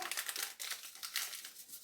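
Close, crisp crinkling of a small vanilla sugar packet, a few quick rustling bursts with brief pauses between them.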